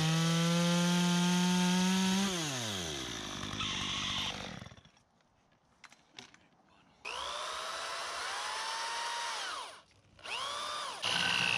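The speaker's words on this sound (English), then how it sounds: "That drill bit really does bite and grab." A power drill whines and labors as it bores into wood, its pitch dropping under load, then cutting out and restarting in loud bursts with brief pauses.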